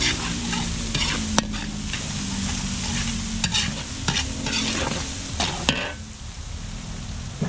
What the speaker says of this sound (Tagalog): gigisa na natin tong pork adobo